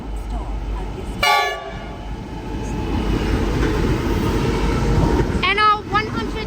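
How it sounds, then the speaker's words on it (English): Sydney train led by an NR-class locomotive passing through Meadowbank station without stopping, a loud rumbling roar of wheels and cars with two sharp horn blasts, one early and one near the end, and a voice speaking over it. "NR16 is the leading locomotive. The train on platform 1 does not stop at this"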